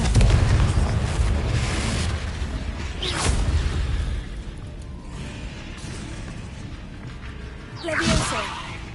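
A Confringo fire spell blasting in the video game Hogwarts Legacy, a loud whooshing burst and rumbling boom up front, then a further impact and a later swish, with a fiery roar fading between hits.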